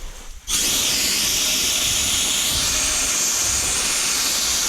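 A homemade water sandblaster for cleaning steel, glass, wood and aluminium bursts on after a brief quiet and runs as a loud, steady, close hiss with a faint mechanical drone underneath.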